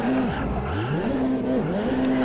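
Group C race car in the Automobilista 2 sim locks its wheels under heavy braking, a loud sustained tyre squeal riding over the roaring engine note, which drops and rises through downshifts.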